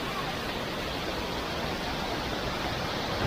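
Khlong Lan waterfall in Kamphaeng Phet roars as a steady, dense rush of falling water, close and loud, unbroken for the whole stretch with no voices.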